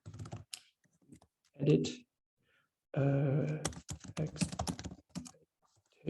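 Computer keys clatter in quick bursts of close typing between stretches of a voice speaking and brief moaning sounds.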